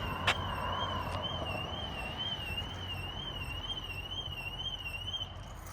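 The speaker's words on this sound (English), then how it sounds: "Always sets off the car alarm." A car alarm wails steadily with a warbling, rising-and-falling tone, continuous and fairly close, with a brief sharp chirp at the start.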